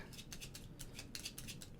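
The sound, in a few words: shuffling a deck of game cards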